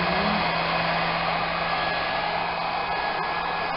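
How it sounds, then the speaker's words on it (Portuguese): A hair dryer blows on a two-month-old puppy, a steady, close, unbroken whir with a constant hum and no change in pitch, alone without voices. "O secador tá certo?"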